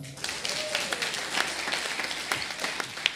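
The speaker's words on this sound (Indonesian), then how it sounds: "Ada tepuk tangan." Church congregation applauding during a Sunday morning service, a steady, moderately distant patter of many hands clapping with a few louder individual claps standing out, continuing evenly throughout.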